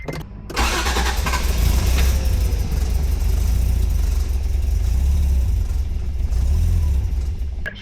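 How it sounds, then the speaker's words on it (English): A Honda NSX with a fully built engine, supercharger and JDM exhaust cranks briefly, then fires and settles into a loud, steady rumbling idle that holds nearly to the end, heard up close with no talking. "get this car actually started and running. Okay. Let us key off. Okay. And then go ahead to crank."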